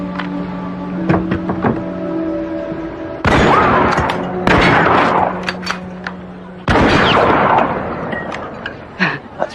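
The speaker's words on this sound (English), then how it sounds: "That's pretty impressive shooting there, Miss Oakley." Sharpshooting gunshots ring out close and loud: several sharp cracks spread across the clip, each followed by a ringing tail, with quieter clicks and knocks between them and no voices.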